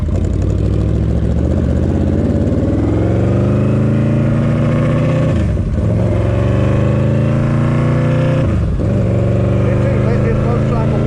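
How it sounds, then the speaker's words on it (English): A Yamaha V-Max motorcycle engine warms up close by, a loud, steady, throbbing idle with rich harmonics. It surges briefly twice with quick blips of the throttle. "Let this motorcycle warm up"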